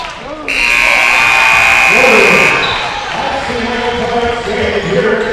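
Final buzzer at a high school boys' basketball game, Uniontown at Gateway, a loud steady electronic drone lasting about two seconds over gym crowd noise, followed by a commentator talking over the crowd.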